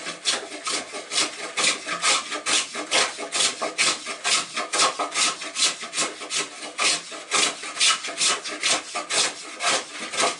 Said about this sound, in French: On va pouvoir maintenant raboter l'extérieur du pavois.